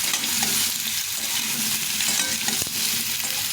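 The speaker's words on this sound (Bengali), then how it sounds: "প্রথমে আলুগুলো একটু লাল লাল করে ভেজে নেব" Potatoes frying in a pan, a constant close sizzle with scraping stirring noises over it, with no talking.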